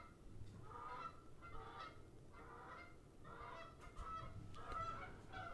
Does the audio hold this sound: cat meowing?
no